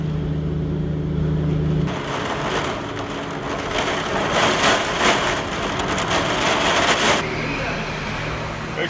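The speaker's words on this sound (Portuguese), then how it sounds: "O dia amanheceu totalmente diferente de ontem, com céu fechado e chuva forte." Heavy rain under an overcast sky on a travel morning before a 4x4 road trip from Brazil into Argentine Patagonia, a dense, steady hiss and patter throughout, with a low hum early on that gives way to louder, close drumming.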